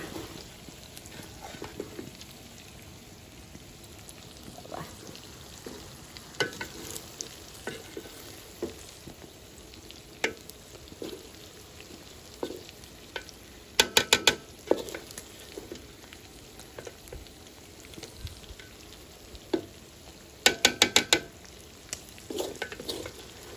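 Beef liver bhuna fries in a pan, a low continuous sizzle broken by repeated utensil scrapes and metallic clatters from stirring, heard up close with no one talking.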